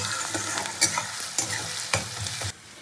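Onions frying in a pan with ginger paste, garlic paste and chilli: a close, steady sizzle with about three sharp spatula scrapes and knocks while stirring, then the sound drops away near the end.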